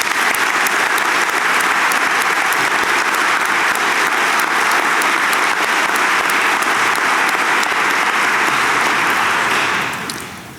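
A large audience at a college convocation and reunion gives a long, loud round of applause, many hands clapping evenly for about ten seconds before it fades out.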